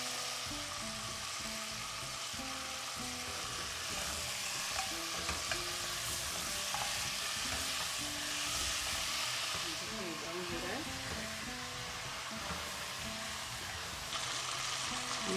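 Cardamom and whole spices frying in hot oil for rogan josh, a steady sizzle and hiss with occasional stirring clinks, continuous and close, with faint background voices.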